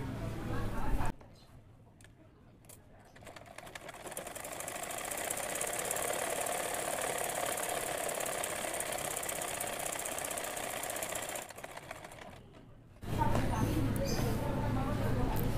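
An electric sewing machine runs steadily in a long continuous burst while stitching the side seam of a kameez, a close motor hum and rapid needle chatter, with talking before and after.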